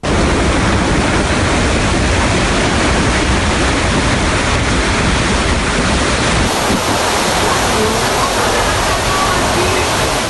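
Strong storm wind gusting at up to 110 km/h, roaring as a loud, continuous broadband rush without pause throughout.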